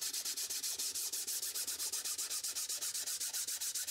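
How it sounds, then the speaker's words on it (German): Horsetail rubbed in quick, even back-and-forth strokes across a violin's wooden top, a steady rhythmic hiss of abrasive scraping, close and fairly quiet with no voices. "wenn man jetzt mit dem Schachtelhalm hier ein bisschen schleift, wie schön und wie kräftig die Decke jetzt schon resoniert"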